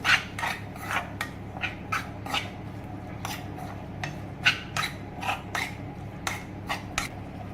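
A spoon scrapes and taps rhythmically in a bowl, mixing tomato chutney with red chilli powder and masala; a quick series of close, crisp scraping strokes repeats alone, without talk.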